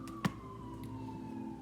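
Emergency vehicle sirens wail faintly from outside in a steady, drawn-out tone, with a brief soft knock near the start.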